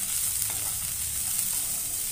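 Bitter gourd roasting in a dry pan with no oil, a steady close hiss of frying with faint stirring, even and continuous throughout.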